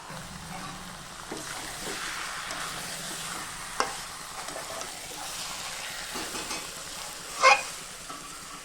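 Chicken frying in a pan with turmeric, cumin, coriander, salt and a paste of whole dried red chilies, a steady low sizzle with occasional stirring scrapes and one sharp clink near the end.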